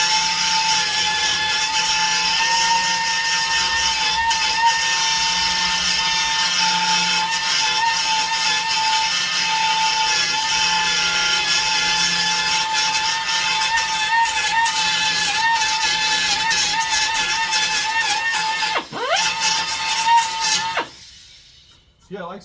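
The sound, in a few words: power tool cutting down a stitch weld on car body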